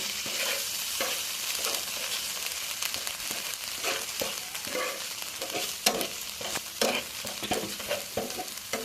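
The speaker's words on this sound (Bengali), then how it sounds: "এটা দিয়ে ভালো করে কষিয়ে নেব" Green chilli paste stir-fries in a pan, a continuous bright sizzle broken by repeated scraping strokes of a spatula, close and fairly loud, with no talking.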